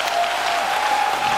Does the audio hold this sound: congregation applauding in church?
yes